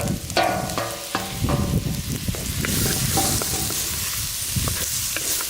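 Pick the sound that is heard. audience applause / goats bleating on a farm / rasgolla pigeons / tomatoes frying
tomatoes frying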